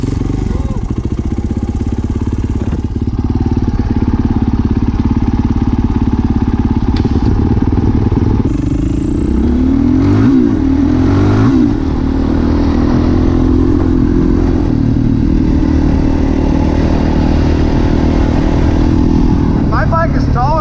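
A 450 dirt bike engine runs close by with a steady buzzing drone that rises and falls as it revs, loudest midway, while people talk over it at times.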